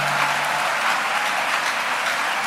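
Congregation in a church service applauding together, a dense, continuous patter of many hands clapping at a steady moderate volume, with no voices rising above it.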